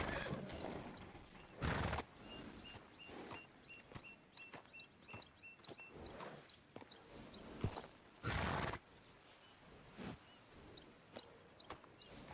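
A horse in Red Dead Redemption 2 gives loud whinnies over steady clip-clop hooves, with bright chiming game sounds ticking along in the background.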